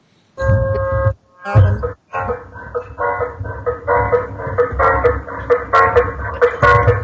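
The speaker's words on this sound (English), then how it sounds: "That's the water truck coming around selling water in the morning." A water-selling truck's horn honks repeatedly on a morning street in Vrindavan, loud and close, first in long blasts and then in a rapid stream of shorter toots, with traffic noise underneath.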